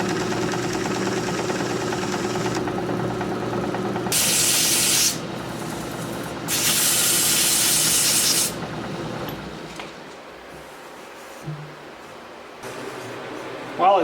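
Sandpaper held against soft wood spinning on a lathe gives a broad hissing rasp over the motor's steady hum, rising in two louder sanding passes before the lathe winds down and fades.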